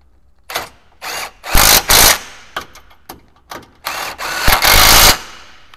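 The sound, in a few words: power tool torquing bolts on Suzuki Jimny bar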